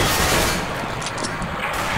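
Gunfire in CS:GO during a DreamHack 2014 match, a burst of shots ending in a headshot, loud and dense, crowding together over about two seconds.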